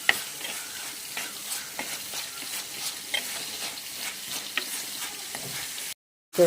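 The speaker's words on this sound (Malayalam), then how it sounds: "ഇതിലേക്ക് അല്പം കറിവേപ്പിലയും ഇട്ട് നന്നായി മിക്സ് ചെയ്തെടുക്കാം" Curry leaves stirred into a sizzling mixture in a frying pan, with brisk repeated scraping and clattering strokes over a steady frying hiss, cutting to a short silence near the end before the sizzle returns.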